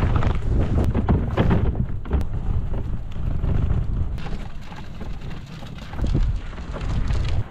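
Wind gusting across a cold winter campsite, a continuous rough buffeting rush on the microphone that swells and eases over several seconds, with no voices.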